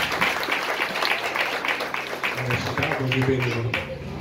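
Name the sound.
congregation applauding in church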